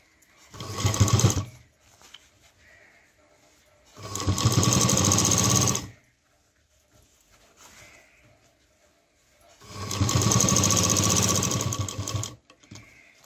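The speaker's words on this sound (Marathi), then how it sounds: "ह्याला सुद्धा मी असंच फिरवून डबल शिलाई करून घेते इथपर्यंत" A sewing machine stitches fabric for a homemade tiffin bag in three bursts of fast, even whirring, each a few seconds long, separated by quiet pauses while the piece is turned.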